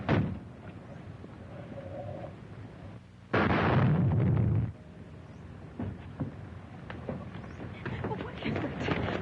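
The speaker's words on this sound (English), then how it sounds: "The motor exploded." A car motor explodes from a spark igniting leaking gas, heard as a sudden loud blast lasting about a second and a half, followed by crackling and banging. Faint talk sits underneath.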